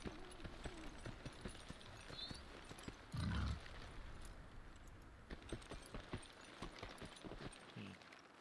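Rhythmic hoofbeat-like footsteps patter steadily as a big pig mount runs in World of Warcraft: Dragonflight, with a short heavier thump midway and a faint ambient hum underneath.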